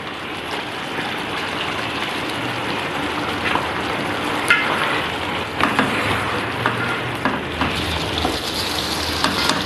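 Chicken sizzles and fries in a pan with tomatoes and spices for a Shinwari karahi, giving a loud, steady crackling hiss up close with occasional stirring scrapes and no talking.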